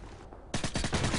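Gunfire in a shooter video game rips out as a fast burst of rapid automatic shots after a brief quiet lead-in, loud and close.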